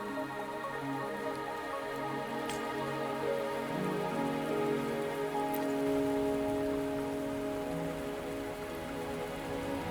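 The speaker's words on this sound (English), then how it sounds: "Are you trapped here by the rain?" Steady rain falling in the video game Wuthering Waves, a continuous soft patter of drops on surfaces, fairly quiet and even throughout, with no voices.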